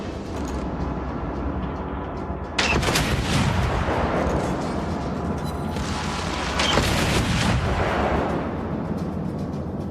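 Naval gunfire striking a battleship in World of Warships, a continuous roar of booming explosions with louder bursts around the middle and later, alone without speech.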